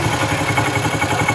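A TVS Star City motorcycle engine idles close by, a steady, even low rumble with a light mechanical clatter running unbroken throughout, with no voices over it.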